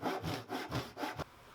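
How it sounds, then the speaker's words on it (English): A Japanese pull saw cuts through wood in four even, rasping strokes, then stops abruptly. The sound is close and there's no talking. "I'm using here a Japanese pull saw, and it works just as easy"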